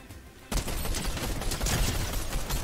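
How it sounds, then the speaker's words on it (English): Gunfire in the Fortnite video game, with an opponent shooting through a wall: after a quiet half-second, a dense, continuous burst of rapid shots and impacts starts abruptly and stays loud until the end. "he's literally shooting me through a wall"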